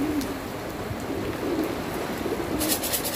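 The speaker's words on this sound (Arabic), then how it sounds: "شوفوا شوفوا الحمام مبسوطة على هالمطر" Pigeons coo on a rooftop in the rain, soft repeated calls over the steady hiss of falling rain, with a brief brighter burst near the end.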